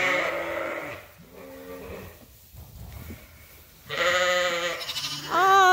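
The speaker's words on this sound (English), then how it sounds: "It's all the lambs by the salt mineral feeder." Lambs bleating beside a salt mineral feeder on a sheep farm in freezing weather: several wavering bleats from a few animals, loud and close, with a quieter pause in the middle before louder overlapping calls at the end.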